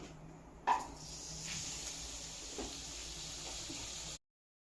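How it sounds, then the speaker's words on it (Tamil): Soft steady sizzling hiss of butter melting and frying in a hot pan, with a faint clink at the start and no talking. "பட்டர் மெல்ட் ஆயிடுச்சு."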